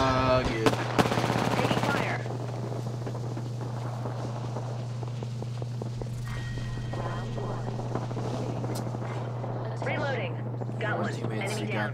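Gunfire in Apex Legends: a sharp burst of rapid automatic shots opens, followed by a quieter stretch of game sounds, footsteps and scattered effects, with a steady hum underneath.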